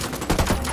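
Gunfire from a squad in the video game Ghost Recon Wildlands, a brief, dense, loud burst of overlapping rapid shots.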